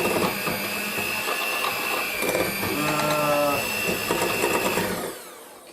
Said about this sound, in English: 225 grams of brown sugar going first, and we are going to take the beaters to it and kind of mix it up